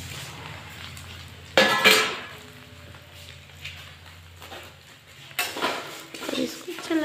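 Cumin, chilli and flattened rice land in a metal pan with a sharp clatter and sizzle, followed by scraping and stirring, someone talking over the cooking.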